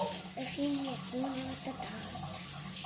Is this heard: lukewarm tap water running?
yes